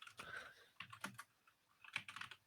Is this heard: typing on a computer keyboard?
yes